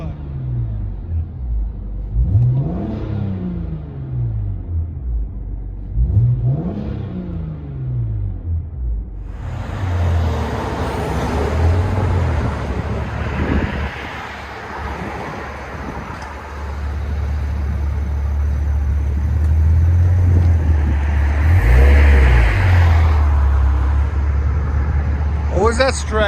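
Cabin view of a 2008 BMW 335i with a 3.0L inline-six and dual exhaust fitted with bottle resonators: two rising revs, then a sustained droning rumble under load, with people talking inside the car throughout.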